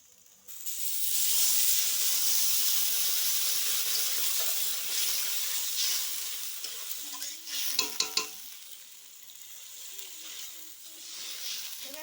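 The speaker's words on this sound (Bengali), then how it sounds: "এটা আমি ধুয়ে রাখা ডালগুলো দিয়ে দিয়েছি দিয়ে ভালো করে একটুখানি নাড়াচাড়া করে নিচ্ছি হয়ে গেছে এবার আমি জল দিয়ে দিচ্ছি" Washed lentils are stirred in a hot pan with a steady, close sizzle and scraping, followed by a few sharp clatters and a hissing surge as water is poured in, the frying continuing more quietly afterward.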